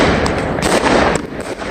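Loud fireworks explode in rapid succession over Liverpool, dense overlapping bangs and crackles with no quiet gaps, close and booming.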